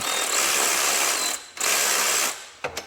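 A ratcheting wrench works a 13mm bolt on a hose clamp of a GM 1.4L turbo engine, a rapid clicking ratchet in close bursts with short pauses and a few final clicks.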